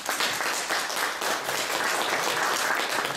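Audience applause following a poetry reading, a dense, steady wash of many hands clapping at full strength throughout, with no voices over it.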